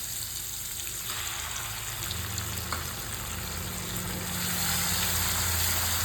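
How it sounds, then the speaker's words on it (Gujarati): Onions frying in oil in a pan as tomatoes go in for a mixed-bean curry, a steady close sizzle running throughout that swells louder near the end. "હવે આપણે એમાં એડ કરી દઈશું ટમેટો."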